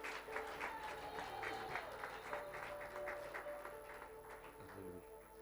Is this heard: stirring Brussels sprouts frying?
no